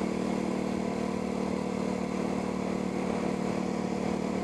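A motorcycle fitted with a flat slide carburetor drones and sputters continuously at close range, a steady buzzy engine note with rough pulsing after the throttle is suddenly let go over a bump.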